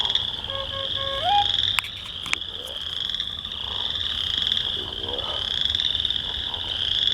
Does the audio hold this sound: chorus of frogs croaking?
yes